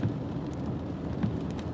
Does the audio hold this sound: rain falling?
yes